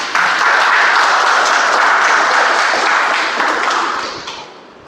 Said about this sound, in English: Let's welcome on the stage with a huge round of applause